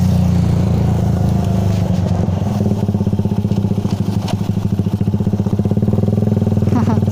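A TMX 155 motorcycle engine with its stock exhaust pipe revs loudly and steadily nearby, a low droning exhaust note with a throbbing pulse that quickens toward the end.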